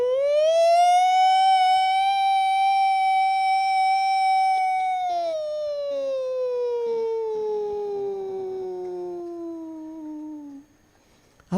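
A single loud, close siren winds up to a steady high wail, holds for several seconds, then slowly slides down in pitch and fades out, heard alone without talk.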